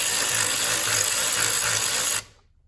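A power drill or driver runs steadily to screw a bolt in on a 2014 Honda Accord 4-cylinder during a coolant crossover O-ring replacement, a continuous close whir lasting about two seconds before cutting off.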